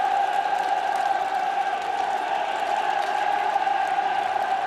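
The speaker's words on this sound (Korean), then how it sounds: "또다시 폭풍 같은 만세 환호성이 하늘 땅을 진감했습니다" A large crowd roars in sustained cheers and hurrahs as a leader leaves a polling station on election day, a dense continuous wall of voices with no breaks, loud and steady throughout.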